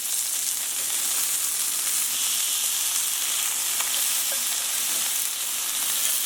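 Chicken pieces sizzling in a pan just after being flipped, an even crackling fry holding steady from start to end, close and moderately loud, with a faint scrape or two and no talking.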